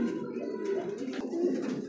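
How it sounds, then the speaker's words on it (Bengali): A pair of Beauty pigeons coo in a cage, giving low, throaty, rolling calls that rise and fall close by, with no talking. "তো বন্ধুরা আমার দেখতে পাচ্ছি এখানে আরও এক জোড়া বিউটিমা কবুতর"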